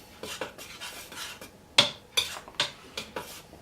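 Bread dough ingredients with a pinch of salt are stirred in a bowl with a metal utensil, giving a run of close scraping strokes and several sharp clinks against the bowl, with no voice.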